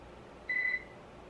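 A single short electronic beep sounds from a kitchen oven timer as its buttons are pressed, a clear mid-pitched tone standing alone over faint room noise.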